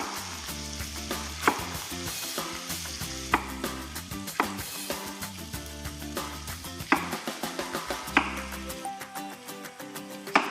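Rapid, steady knife chops through potatoes on a cutting board, a quick repeated tapping rhythm that continues for several seconds over faint background music.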